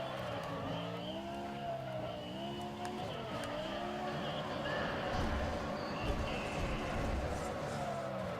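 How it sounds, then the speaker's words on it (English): Need for Speed ProStreet race car drifting on the e-brake, a sustained tire skid and squeal over a steady engine drone, loud and continuous with a voice talking over it. "using the e-brake sounds like I'm braking something direly"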